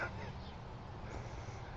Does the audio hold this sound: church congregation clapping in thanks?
no